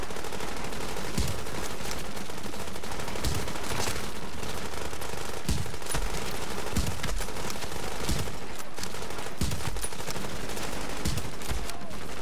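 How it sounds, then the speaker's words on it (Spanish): Rifle fire in The Division: near, loud rapid shots and bursts crack out repeatedly over a dense combat din, with a voice talking over them. "podemos asomar y disparar casi a la vez, porque la mira se cierra rapidísimo"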